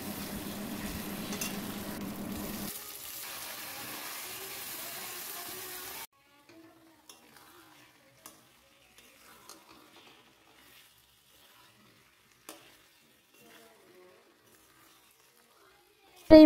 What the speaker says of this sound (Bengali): এবার এই আলুগুলোকে ভালো করে ফ্রাই করে ভেজে নেব।